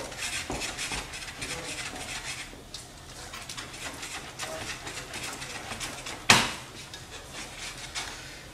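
Risotto rice being stirred in a pot as stock is absorbed, giving a steady, soft scraping and rubbing with faint clinks of utensil on metal and a sharper knock near the end.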